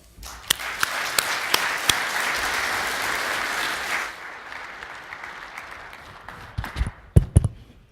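Audience applause welcoming a speaker named Russell at a soil health talk, a steady wash of clapping that builds, holds for several seconds, then thins out into a few scattered final claps.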